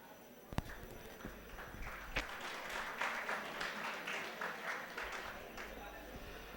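Audience at a climate summit valedictory ceremony in Ahmedabad claps together, rising from a few scattered hits into a sustained round of applause of moderate loudness that tapers off near the end.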